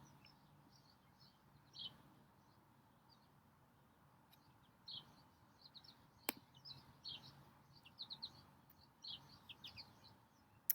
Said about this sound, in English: The birds are singing a lot this morning